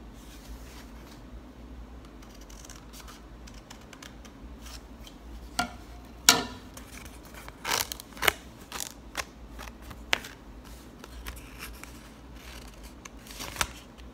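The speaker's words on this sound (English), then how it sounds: "now I'm going to cut this down the middle" Scissors snip paper down the middle while making a paper rose center, a handful of crisp cuts in fairly close, quiet isolated clicks amid soft handling noise, without talk.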